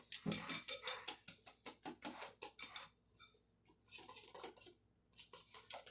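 Dry cloud bread ingredients being mixed in a bowl, with a utensil scraping and clinking against the bowl in quick, rhythmic strokes, pausing briefly, then starting again, close and fairly crisp.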